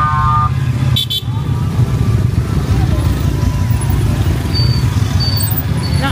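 Busy street traffic in Vietnam with many motorcycles and cars, a dense continuous engine drone and a horn toot near the start, with people talking over it throughout.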